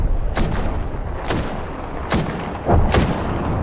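Explosive blasts from a frag grenade in a shooter video game, four sharp broadband bursts about a second apart over a steady rumbling backdrop of battle noise.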